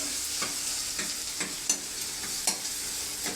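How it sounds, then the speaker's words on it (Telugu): Onions frying in a pan hiss with a soft, steady sizzle, punctuated by periodic scraping clicks of stirring, close and fairly quiet with no voices. "ఉల్లిపాయలు వేగాక టమాటాలు వేస్తానండి."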